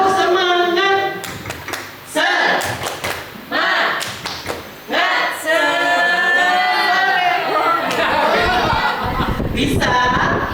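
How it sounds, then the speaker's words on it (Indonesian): A group claps in a rhythmic spirit-clap pattern, sharp bursts of hand claps broken by pauses, with voices chanting and talking between and over the clapping. "Kita tepuk semangat dulu."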